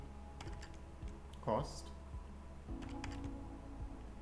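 Quick clicking keystrokes on a computer keyboard as a quantity and cost are entered into purchase order accounting software, with a voice talking over the taps.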